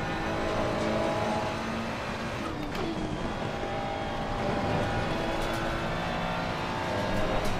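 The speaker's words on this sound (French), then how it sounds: "Une Ferrari 488. L'ancienne génération." Ferrari 488 race car engine from the older generation in the racing game Assetto Corsa Competizione, a steady sustained drone running loud and unbroken throughout, with a few brief harsher flares along the way.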